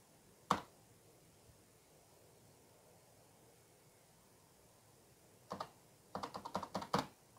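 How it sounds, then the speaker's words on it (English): Computer keyboard keys struck in bursts: one sharp tap early, then a short flurry of rapid, uneven clacks near the end, close and clear over quiet background hiss. "just don't randomly mash the keyboard"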